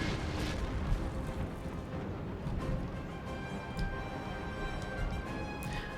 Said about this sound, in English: Except fire back with my own artillery.